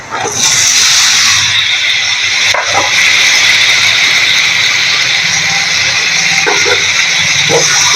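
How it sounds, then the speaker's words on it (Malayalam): Tomatoes dropped into a hot pan, giving a loud, close, steady hissing sizzle throughout, broken by a few brief knocks and stirring clatters. "ഇനി നമുക്ക് ഇതിലേക്ക് തക്കാളി ഇട്ട് കൊടുക്കാം"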